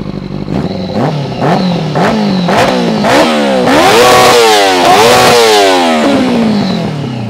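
A quad bike fitted with a swapped-in Yamaha R6 motorcycle engine revs hard and close, with repeated sharp throttle blips that climb and fall and then rise into longer high-pitched screams.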